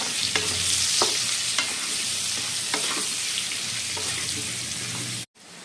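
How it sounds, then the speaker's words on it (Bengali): Potatoes fry with turmeric and salt in a pan, giving a steady close sizzle broken by periodic scrapes of the spatula, until the sound cuts off abruptly near the end. "এবার আলুগুলোকে আমি ভালো করে ভেজে নেব"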